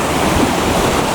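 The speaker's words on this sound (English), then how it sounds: "I gotta be careful with the waves hitting me here." Loud, close surf of Pacific waves crashing onto rocks at Rialto Beach, Washington, a dense continuous roar of churning water and spray with wind buffeting the microphone.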